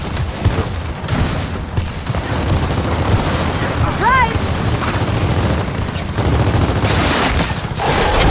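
Rapid, loud bursts of gunfire and explosions from Gears of War 4 combat, dense and continuous, with shouted voices mixed in over the battle noise.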